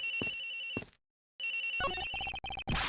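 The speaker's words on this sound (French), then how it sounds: "La sonnerie vient bien d'ici, monsieur." Phone ringtone from the video game Ace Attorney Investigations, a bright electronic ring that cuts off briefly, then resumes with a stepped melodic trill, clean and loud with no voices.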